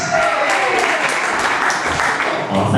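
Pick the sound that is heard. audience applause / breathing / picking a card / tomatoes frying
audience applause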